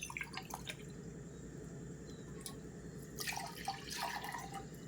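Close, trickling splash as a glass of water is poured into a clay pot on a lit stove, continuous for several seconds and brightening toward the end.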